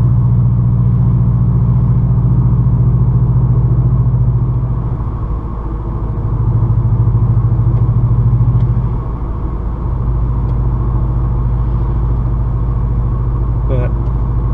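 A 2014 Subaru WRX cruises along a road, its engine a steady low drone with tire and road rumble inside the cabin, dipping briefly twice as it shifts; a person talks over it.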